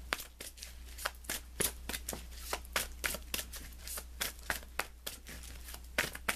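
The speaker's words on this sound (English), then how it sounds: "let me pull you an additional guidance card" Tarot cards being shuffled by hand, a steady run of quick papery riffles and slaps in an irregular rhythm, close and clear over a low background hum with no talking.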